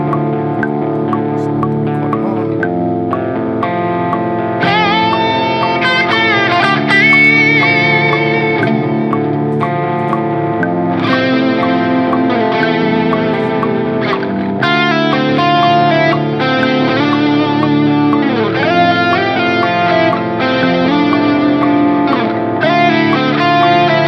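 An electric guitar solo recorded on Linux plays back through distortion and echo effects, with sustained, singing lead notes and bends that run continuously and loudly for the whole stretch, with no talking.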